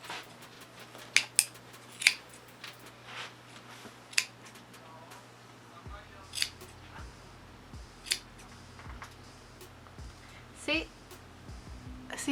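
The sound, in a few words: scissors clipping pom pom yarn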